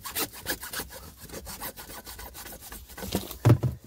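Hand saw cutting off a piece of drain pipe during crawl space French drain and footer tile waterproofing work, a steady series of rasping strokes with a louder burst near the end, no talking.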